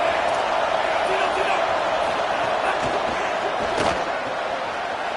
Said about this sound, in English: this home crowd is fired up and ready to make a difference